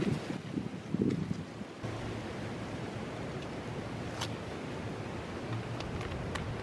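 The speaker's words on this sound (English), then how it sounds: "Ooh, windy." Wind buffets the microphone with a steady rushing roar, a bit rougher in the first couple of seconds, with no voices.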